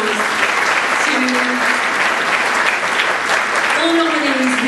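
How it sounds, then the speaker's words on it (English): A room full of people at an awards ceremony applauds steadily, dense clapping throughout with a few cheers and a voice briefly audible under it. "we need to give a round of applause to"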